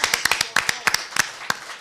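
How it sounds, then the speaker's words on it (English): Scattered claps from a small forum audience at a newsroom discussion event, sparse and uneven, a handful of distinct sharp hand claps rather than a full ovation, fairly close and without talk. "let's have a round of applause for Richard"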